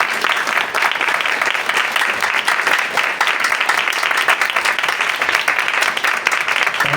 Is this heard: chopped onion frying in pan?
no